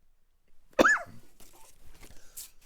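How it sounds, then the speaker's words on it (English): A single sharp, close cough from a man with a dry throat, bursting out after a moment of near silence and followed by faint rustling and handling noises. "That's why I'm coughing."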